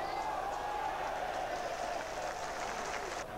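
Stadium crowd applauding a goal kick at a 1994/95 Spartak Trnava football match, a dense, steady wash of clapping and crowd noise lasting throughout at even loudness, with faint voices mixed beneath.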